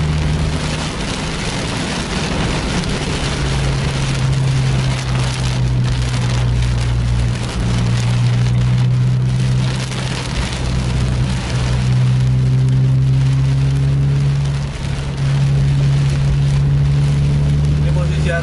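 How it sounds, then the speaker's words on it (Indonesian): Heavy rain drums on a moving sleeper bus on the road, a loud, dense wash of water noise over a constant low engine drone that carries on without a break. "Kondisi hujan yang belum reda-reda."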